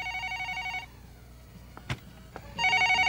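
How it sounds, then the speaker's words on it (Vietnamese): A telephone rings in a home, a bright electronic trill in two bursts separated by a quiet gap with a couple of faint knocks, the second ring starting up again near the end. "Nè, mấy đứa nhỏ không nghe điện thoại vậy?"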